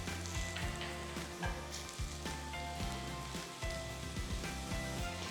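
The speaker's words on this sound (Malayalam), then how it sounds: "ഈ സമയത്ത് നമുക്ക് കുറച്ച് കറിവേപ്പില, കറിവേപ്പില ഇട്ട് ഒന്ന് മൂപ്പിച്ചിങ്ങി മാറ്റാം." Curry leaves frying in hot oil with shallots in a pan, a close, steady crackling sizzle with bursts of popping throughout; no talk.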